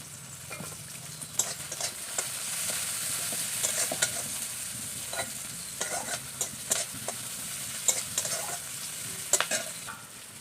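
Onions frying in oil in a pan for a homemade Bengali fish curry, a steady close hiss and sizzle broken by repeated sharp scrapes and clicks of a spatula stirring throughout.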